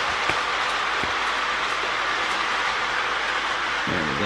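Marx E7 Great Northern Empire Builder toy train rolls past with a steady whirring rush and faint rhythmic clicking on the track, close and fairly loud, ending in a brief low rumble, with no talk.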